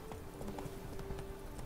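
Horse hooves clip-clop in the Witcher 3: Blood and Wine video game, a quick, steady patter of hoofbeats under a dense, noisy game soundscape.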